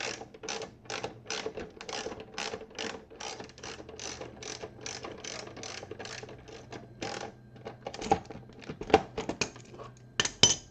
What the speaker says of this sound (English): I'm going to take my ratchet.